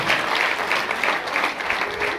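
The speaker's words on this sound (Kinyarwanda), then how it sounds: "amashyi" A wedding crowd claps continuously in a dense, steady wash of applause that holds at an even loudness throughout.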